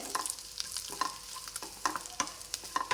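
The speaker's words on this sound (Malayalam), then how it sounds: "ഇത് നന്നായിട്ട് ഇങ്ങനെ ഇളക്കി കൊടുക്കണം" Grated coconut is stirred as it roasts in a pan for a bitter gourd curry, with a steady scrape and rustle broken by repeated spatula strokes and light sizzling.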